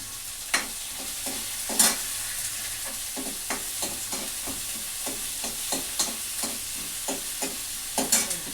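Onions frying in a pan and being stirred, with a continuous quiet sizzle broken by regular spoon or spatula scrapes and taps about twice a second, close and without any talking.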